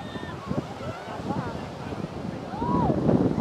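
Sea wind blowing on an afternoon beach at Phan Rí Cửa, Bình Thuận, buffeting the microphone with steady low rumble that strengthens toward the end, under faint background voices.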